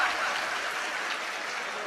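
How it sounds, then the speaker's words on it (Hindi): Applause from a mushaira audience, a dense steady patter of many hands clapping at moderate volume, sustained without a break. "आप अपने लिए एक बार जोरदार ताली बजाएं"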